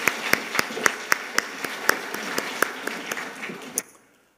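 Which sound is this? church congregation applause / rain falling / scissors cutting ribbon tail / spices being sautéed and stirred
church congregation applause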